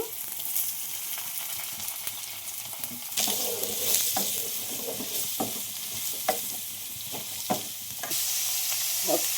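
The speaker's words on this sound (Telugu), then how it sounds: "తాలింపు ఇలా ఎర్రగా వేగిన తర్వాత ఇప్పుడు ఉల్లిపాయలు వేసుకోవాలి" Onions sizzle steadily in hot oil, with stirring scrapes and light clacks of a spatula against the pan throughout; no one speaks.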